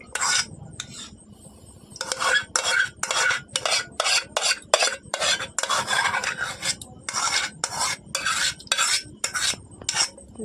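A spoon stirs sour yogurt into a milk mixture made from milk powder for sweet curd, scraping the bowl in quick rhythmic strokes that come in bursts with short pauses, close and loud.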